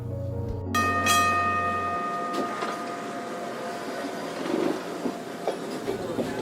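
A historic waterfront trolley in Astoria, Oregon, originally from San Antonio, clangs its bell near the start, then rumbles and clatters along the rails at moderate distance, with no talk over it.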